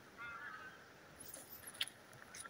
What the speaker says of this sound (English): Got geese.